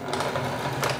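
A sewing machine runs in a short burst of rapid, even stitching through fabric, close and clear.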